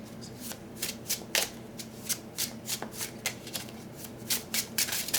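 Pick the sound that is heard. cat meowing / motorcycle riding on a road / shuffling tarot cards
shuffling tarot cards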